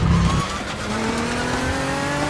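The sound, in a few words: video game car skidding, tires losing grip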